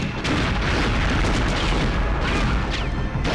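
Rapid gunfire in the Nintendo 64 game Perfect Dark during a multiplayer match in the Temple, dense continuous booming bursts filling the whole stretch with no talking.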